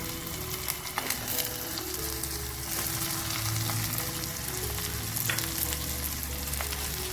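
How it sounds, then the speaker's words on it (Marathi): Chopped taro leaves and sprouted val beans land in a hot pan of oil and asafoetida, setting off a steady, loud, close sizzle with some stirring noise, alone with no speech. "त्यानंतर आपण हे अळू चॉप करून घेतलं ते टाकतो आणि हे मोड आलेले वाल."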